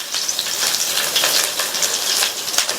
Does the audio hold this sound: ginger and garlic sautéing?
yes